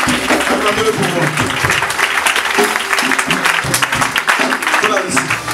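A church congregation claps steadily and densely for the Lord during a worship service, with voices and cheering mixed into the loud, continuous applause.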